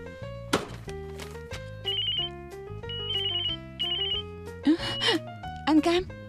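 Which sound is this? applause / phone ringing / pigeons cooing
phone ringing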